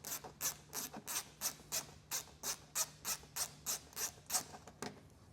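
7mm screws coming out of the underside of the fascia on a 2025 Chevrolet, with a steady rhythmic ratcheting of about a dozen evenly spaced scraping clicks, close but fairly quiet, no talking.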